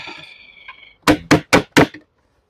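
A beehive crown board is knocked four times in quick succession to shake bees off, giving close, sharp wooden raps after a brief stretch of faint voice.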